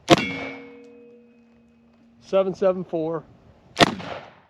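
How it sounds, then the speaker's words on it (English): Three black powder .45 Colt revolver shots fired slowly over a chronograph: a loud crack at the start, then a pause while a beeping readout chirps three times, then a second sharp loud report near the end. "I'm going to fire 3 over the chronograph slow"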